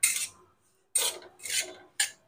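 Semolina roasting in ghee in a pan over low-to-medium gas, stirred as it browns: four short, raspy scraping bursts with brief pauses between them, close and fairly soft, with no voices.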